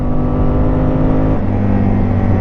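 A 1996 Yamaha Wolverine 350 ATV four-wheeler engine, loud and close, revs steadily under acceleration, its tone dropping at a gear change partway through and then climbing again, with no talking.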